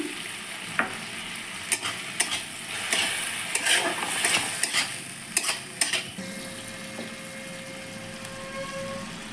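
Ginger, garlic and chili paste sizzles in a pan after frying tomatoes for a prawn kalia, with a steady hiss broken by repeated sharp scrapes and clinks of a spatula stirring against the metal.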